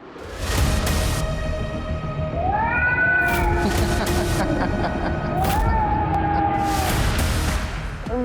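A cat meows in an audition clip, with two drawn-out rising-and-falling calls close to the listener over a steady noisy background.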